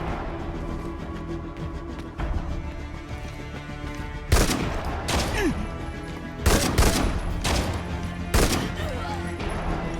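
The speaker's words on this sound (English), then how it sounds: "I came face to face with the source of all those gunshots and took them out." Sharp bursts of gunfire crack out in several quick volleys over a constant droning, musical game soundtrack, loud and close.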